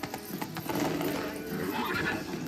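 A horse neighs in Witcher 3, a short whinny with clip-clopping hooves, close and fairly loud, with no talking over it.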